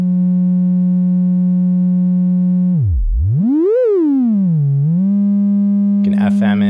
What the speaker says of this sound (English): Patch our sine wave into the output